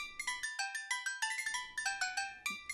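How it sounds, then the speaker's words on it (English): A phone rings with rapid, bright electronic chirps in repeated bursts, close and clear, with no other sound beneath it. "Is that phone ringing?"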